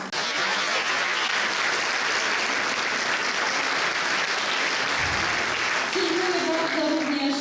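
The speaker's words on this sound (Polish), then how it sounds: "Wielkie brawo." A concert audience applauds at a Christmas show, with dense, sustained clapping that fills the whole stretch, and a voice starts speaking over it toward the end.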